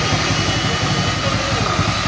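A fuel-injected motorcycle engine idles steadily at close range, a loud continuous rumble with a fast even pulse and no change in speed throughout.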